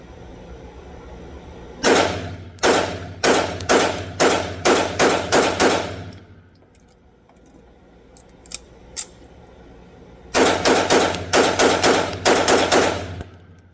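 A Springfield Emissary pistol fires in two bursts of sharp, evenly spaced shots at close range, with a quiet gap between them holding a couple of faint clicks.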